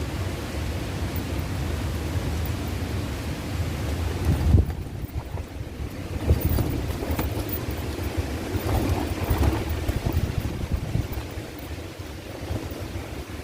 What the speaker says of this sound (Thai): ลมแรงจริงๆสุดยอดแล้วที่นี่